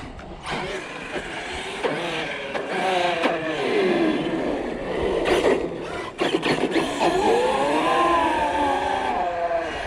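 An Arrma Outcast 8S RC car with a rebuilt rear tears around a freshly repaved parking lot, its motor whining loudly and continuously, rising and falling with throttle bursts close by.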